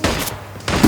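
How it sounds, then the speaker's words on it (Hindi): Gunfire in the video game Hitman 2, Mumbai mission: a loud burst of rapid shots, a short quieter lull, then a second heavy volley near the end, with no talking. "ऐसे गोली मारते हैं और भागते हैं"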